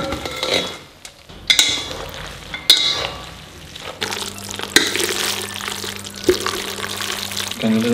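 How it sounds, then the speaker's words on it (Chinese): Cold noodles being tossed and stirred in a large bowl with chili oil, ginger, garlic, scallion, cilantro and seasonings, giving a steady wet mixing and scraping sound, close and fairly loud, with a low hum underneath. "姜蒜、葱和香菜，搅拌均匀"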